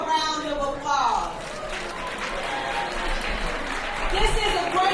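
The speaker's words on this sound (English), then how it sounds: "Let's give each one of you a round of applause." An audience applauds at a campaign event on Chicago's South Side, a steady wash of clapping under a speaker's amplified voice.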